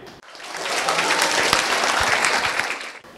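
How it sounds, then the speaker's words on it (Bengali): A school audience applauds a correct quiz answer, a dense, steady burst of many hands clapping together, close and loud, swelling quickly and fading out after about three seconds. "উত্তরটি সঠিক হয়েছে, সবাই জোরে একটি হাততালি দেই।"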